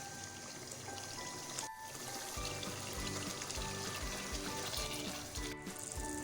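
Beef bhuna masala cooked in yogurt without tomatoes, frying on high flame: a steady, faint sizzle and bubbling that runs throughout, with occasional soft stirring clatter and no talk.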